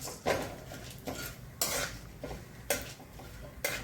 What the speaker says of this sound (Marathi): सूर्यफुलाच्या बिया भाजू आता. हेही छान असं तुपात भाजून घ्यायच्या.